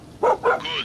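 A dog in the video game Far Cry 6 gives two short, loud barks in quick succession, followed by a softer, higher whine. The sounds are close and clear, with no talking.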